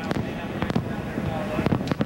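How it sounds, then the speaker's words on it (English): Fireworks go off over the Daytona race track after a Toyota win, a string of sharp cracks and pops at an uneven rhythm beneath a commentator's voice. "Fireworks going off."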